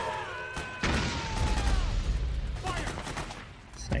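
Sniper gunfire from a rooftop in Metal Gear Solid 4 rings out as sharp shots and crashing bursts over an ongoing battle din, loud and fairly close.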